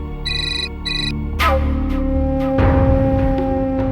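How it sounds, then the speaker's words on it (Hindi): A phone ringtone plays loudly and close, a repeating electronic melody with no voices. "सासू माँ का फोन।"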